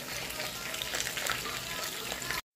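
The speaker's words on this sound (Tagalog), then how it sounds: "At dito sa kabila naman ay nagpa-fry tayo ng ating chicken." Chicken fries in hot oil with a dense, even sizzle that carries on at a steady level, then stops short.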